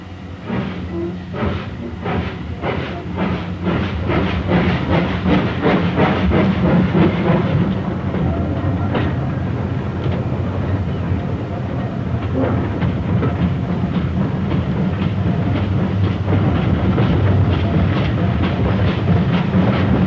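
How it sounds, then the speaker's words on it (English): An early morning mixed train pulls away from North Hayling in 1963 with a steady run of rhythmic steam exhaust beats and a rolling clatter, loud and continuous without voices. "This sequence shows an early morning mixed train departing North Hayling in March 1963."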